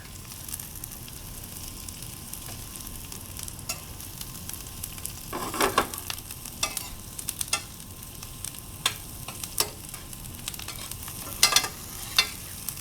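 Onions, garlic and butter sizzle and fry in a pan, a soft, steady crackle with intermittent sharper pops and scraping stirs, close and fairly quiet, with no talking.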